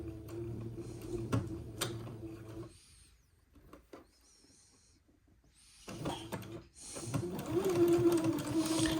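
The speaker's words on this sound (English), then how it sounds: "So I'm going to come along and I'm going to zigzag my seam in place." A domestic sewing machine runs a zigzag stitch along a fabric seam joining entredeux trim, its motor whirring in bursts with short pauses between, close and steady.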